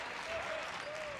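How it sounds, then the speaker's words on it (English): Faint applause from a basketball arena crowd rises briefly during a Champions League game, soft and distant, with a whistle-like tone over it. "Yorka hearing the applause"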